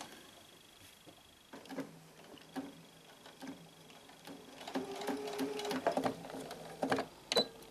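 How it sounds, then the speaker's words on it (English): A sewing machine stitches across the slider of a martingale dog collar, starting with quiet ticking and then running in louder bursts of rapid mechanical whirring, close by and with no voices. "And just sew across"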